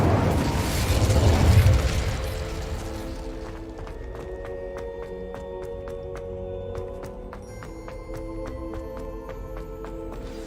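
The Incendio fire spell cast in Hogwarts Legacy, a loud whooshing burst of flame in the first seconds that fades into calm game ambience with chiming tones.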